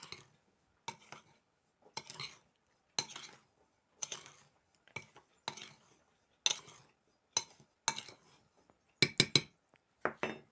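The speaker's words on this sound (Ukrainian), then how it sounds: "добре перемішуємо" A spoon scrapes and knocks inside a pot of blackcurrant jam (konfitur) with gelfix as it is stirred, about a dozen separate clinks and scrapes at uneven intervals with near silence between them.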